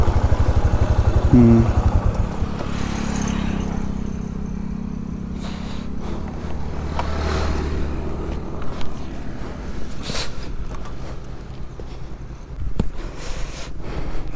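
Motorcycle engine rumbling steadily as the bike is ridden up a slope and brought to a stop to park, close and fairly loud, easing off midway with wind noise and a few sharp knocks near the end.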